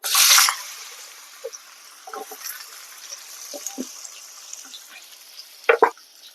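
Potatoes dropped into hot oil with salt and cumin give a loud burst of sizzling, which settles into a quieter steady frying hiss with a few soft utensil clinks and stirs.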